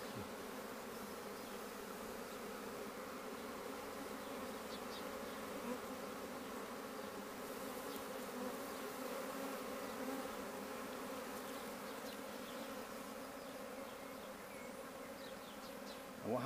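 Honey bees swarm around a basket during the capture of a cast swarm, a dense, steady buzzing hum that continues for the whole stretch, with many insects close by and no voices.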